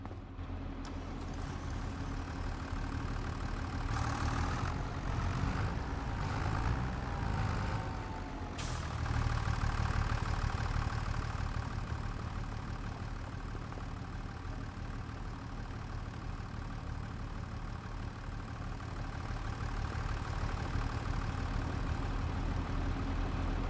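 Tractor engine in a farming simulator game running at a steady idle, a constant low drone throughout with a brief louder mechanical rattle and clunk partway through, no talking.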